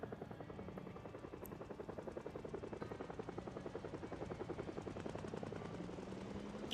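A helicopter in the zombie survival game Project Zomboid thuds with a steady, rapid rotor chop throughout, moderately distant and continuous over a low engine drone.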